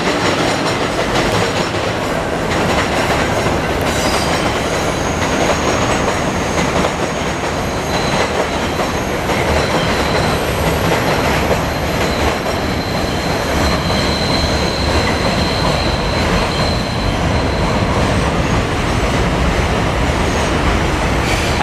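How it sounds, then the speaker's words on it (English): A 2 and 5 line New York subway train rumbles past continuously, wheels clattering and squealing on the rails, loud and close throughout with no voices. "That's the 2 and 5 subway line."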